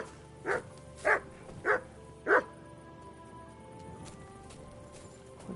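Four loud, evenly spaced barks from Mutz the dog in Kingdom Come Deliverance 2, each short and sharp, followed by quiet ambient background with no talking.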